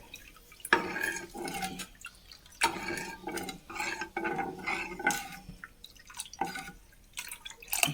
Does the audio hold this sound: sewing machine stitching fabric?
no